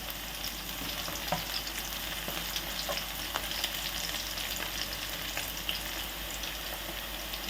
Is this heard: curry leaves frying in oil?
yes